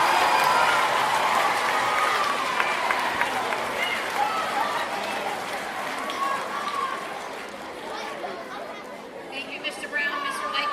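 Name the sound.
audience applause for the marching band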